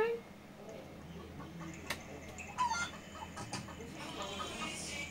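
A chicken clucks in the video game Escape Evil Castle, with short, irregular clucks over quiet game ambience and faint background sounds.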